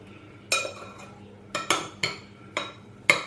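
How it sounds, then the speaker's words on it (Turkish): A metal utensil mashes and stirs kısır ingredients in a bowl, giving six sharp clinking scrapes at irregular intervals, close and crisp, with quiet gaps between strokes and no talking. "Eze eze iyice bütün malzemeleri birbirine karıştırıyorum."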